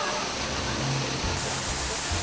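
Water pours steadily down Surak Falls in a constant, loud rushing wash that fills the short scene from start to end, with faint low sounds underneath.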